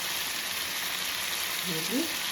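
Chicken liver frying on low heat in a pan, giving a steady, even sizzle throughout, with a faint stir or voice near the end.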